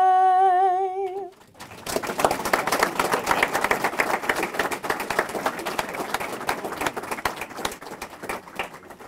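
Following a sung national anthem at a learning center ceremony, an audience breaks into applause; a held sung note fades out, then dense clapping starts abruptly and continues steadily at moderate distance.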